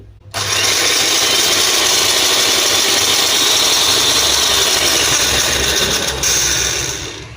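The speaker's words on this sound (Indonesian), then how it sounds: "Kedengeran suara gearboxnya yang jelek nih." A Kirin KHM287S hand mixer with a bad gearbox runs steadily and loudly for about seven seconds. It gives a harsh, whining motor drone with gritty gear noise, then winds down at the end.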